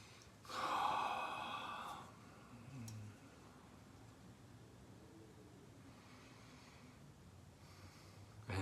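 A single deep, audible breath at the start of a guided meditation, a soft airy inhale-exhale near the microphone followed by a fainter breath, then a quiet, still room with low background hiss.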